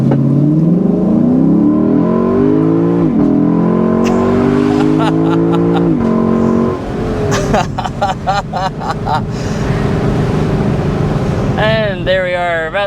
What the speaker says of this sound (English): let's go ahead and start out with a hard acceleration